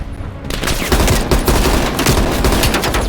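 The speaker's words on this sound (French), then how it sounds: "Attention, une mitrailleuse lourde sur la crête." Heavy machine gun fire in Black Ops Cold War, a dense, loud, continuous burst of rapid shots that fills the whole stretch, with no voices over it.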